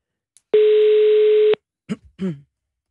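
A single steady electronic telephone tone lasting about a second, followed by a couple of short quiet sounds.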